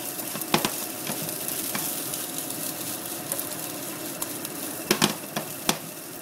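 Fried rice sizzles steadily as it is stirred in a pan, with frequent close scraping and tapping strokes of the utensil and no voices.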